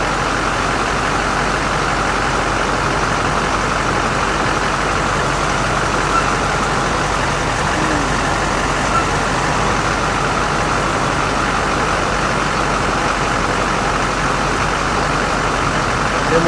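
An ambulance truck engine runs steadily at idle and is shifted into gear, a constant dense rumble holding at one even level throughout with no break.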